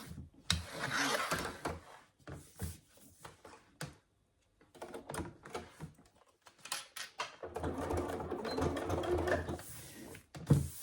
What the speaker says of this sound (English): you're going to top stitch along the top edge only